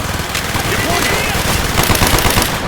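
Rapid automatic gunfire in the video game Call of Duty Black Ops, loud bursts of dense repeated shots in quick rhythm, with game voices shouting faintly beneath.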